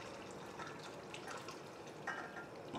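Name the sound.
broth being poured into coq au vin sauce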